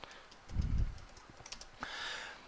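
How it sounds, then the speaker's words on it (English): Typing on a computer keyboard during a programming lab, a short burst of soft key clicks followed by a brief faint hiss, quiet and close with no talking. "Now I'll press enter after the second text box. I will type position."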